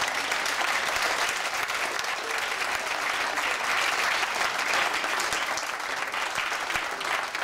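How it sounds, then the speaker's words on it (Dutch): A live audience claps at the finale of a Dancing with the Stars 2013 dance-studio show in Waalwijk, a dense, steady ovation sustained throughout at close range. "Debbie en Remy en iedereen die hierbij betrokken is bij Dancing with the Stars 2013 Baalwijk een enorm applaus te geven"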